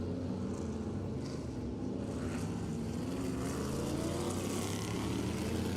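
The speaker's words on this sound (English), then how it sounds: "We got hot laps here for 2 laps." NASCAR Modified race cars running hot laps at Riverhead Raceway, a continuous dense engine roar heard from a distance, steady and unbroken with no talking.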